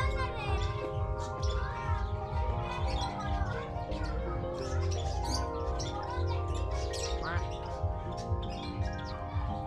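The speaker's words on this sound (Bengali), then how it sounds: "এইখানে রয়েছে বিভিন্ন রকমের পাখি" Many caged birds, including parrots, a golden pheasant, lovebirds, turkeys, pigeons and cockatiels, chirp and call in a mixed aviary bird house in Jhargram. Dense, overlapping tweets and whistles continue steadily throughout, with people talking nearby.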